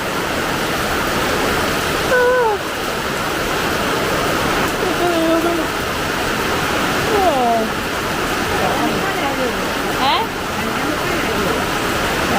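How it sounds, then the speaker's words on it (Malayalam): Heavy rain falls in a constant, loud hiss while several people talk intermittently over it. "അമ്മയ്ക്ക് മഴ പെയ്ത് മനസ്സിലായില്ലേ"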